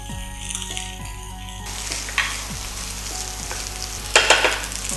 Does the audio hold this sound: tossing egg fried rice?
yes